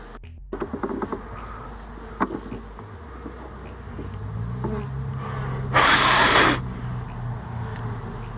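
Honeybees buzz steadily around swapped hive boxes in an apiary, a continuous insect drone with one louder close pass as a bee flies near, with no talk.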